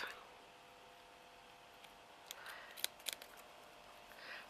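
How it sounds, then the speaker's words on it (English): A few quiet, crisp snips of small scissors cutting out stitches, irregular and close, over a soft room hush. "these scissors are rubbish"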